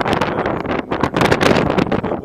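Steady wind gusting hard against the microphone at a log cabin by big waves, a broad rushing roar with buffeting bursts throughout, no voices.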